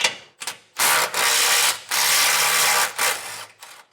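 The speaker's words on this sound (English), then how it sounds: "I got a 15 millimeter socket. I'm just going to take these two nuts off that are securing our jounce bumper." A 15 mm socket wrench ratchets off the two nuts holding a jounce bumper on a 2024 vehicle during a rear air helper spring installation. Several close, loud bursts of rapid clicking are separated by short pauses, with no talk.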